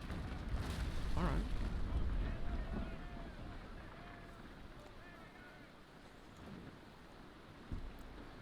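Heavy cannon broadsides from a ship-of-the-line battle against a third rate in the naval game Naval Action, heard as a loud, sustained rumbling blast in the first few seconds that fades into wind-like noise, with a faint later thump.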